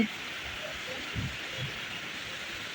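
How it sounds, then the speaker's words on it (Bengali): Steady rain falls on a rainy day, a soft, continuous hiss with a few faint low thumps, heard alone at a moderate, even level. "সুন্দর একটা বৃষ্টি"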